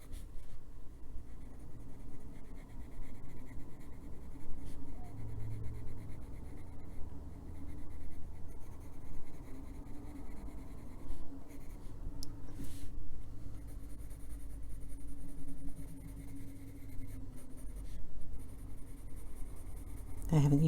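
Colored pencils shade an adult coloring book page of a sleeping fox in a twilight garden, a soft continuous scratchy rubbing that runs steadily throughout, close and fairly quiet.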